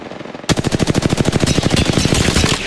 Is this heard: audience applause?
no